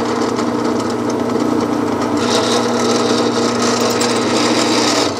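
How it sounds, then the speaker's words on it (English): A drill boring a hole straight through a wooden game piece, a steady loud grinding whir that runs unbroken for several seconds with a rasping edge, no talking. "I'm gonna drill that hole straight through, keeping it tight to that"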